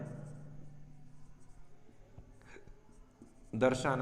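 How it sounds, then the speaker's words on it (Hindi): Chalk writing on a board in a classroom, faint scratchy strokes and taps under soft speech from a teacher, with a louder voice rising at the end. "अब जो ज्ञात करना उसको लिखते हैं हम"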